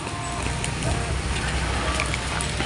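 A pile of yard debris burns outdoors, giving a steady crackling roar with broadband hiss throughout, loud and close.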